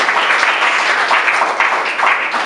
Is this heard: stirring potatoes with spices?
no